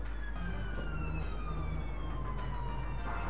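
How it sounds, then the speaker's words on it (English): Video game ambulance siren: a steady, continuous wailing siren tone with a falling sweep, loud and up close, over a constant low engine drone, with no speech. "I'm an ambulance, don't shoot me."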